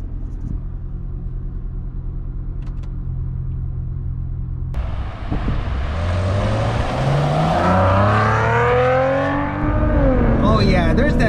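A 2017 Maserati Ghibli with a twin-turbo engine idles, then pulls away hard in sport mode, its close, loud exhaust note climbing through rising revs and gear changes, with a voice talking over it.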